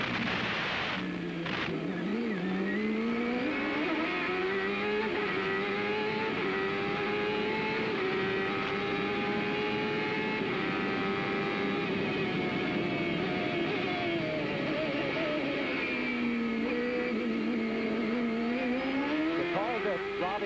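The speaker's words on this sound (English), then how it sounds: "The gear changes are spectacular here." A CART race car recorded onboard at the 1995 Surfers Paradise street race screams at high revs, its engine pitch climbing and dropping through gear changes, loud and constant, with a commentator talking over it.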